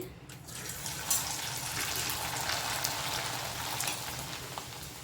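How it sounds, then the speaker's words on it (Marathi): Something fries in hot oil with a steady, crackling sizzle that swells after a moment and continues evenly at moderate volume. "तेल आपलं छान असं तापलं आहे हा असा अख्खाच पापड टाकते मी"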